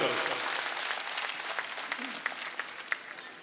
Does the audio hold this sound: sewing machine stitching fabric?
no